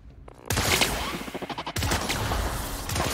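Bursts of gunfire in the video game The Outer Worlds, loud shots cutting in suddenly after a quiet start, with a stuttering run of pulses in the middle before heavy firing resumes.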